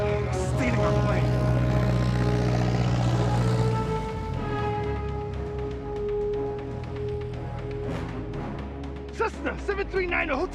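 A Cessna propeller airplane engine drones steadily close by, then its pitch shifts and it fades slightly as people talk excitedly over it, with sharp thumps near the end.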